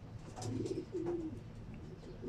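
Pigeons coo in a loft, soft repeated throaty calls close by, with a few overlapping coos against low ambient noise.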